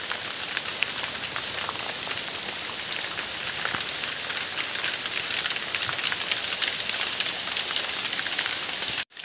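Heavy rain pours steadily in a village in Konkan, a dense, loud and unbroken hiss of drops beating on surfaces nearby that runs throughout and cuts off abruptly at the very end.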